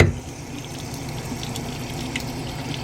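Water runs steadily from a bathroom sink tap in a hotel room, a continuous close hiss and splash with a slightly louder gush at the very start and no voices.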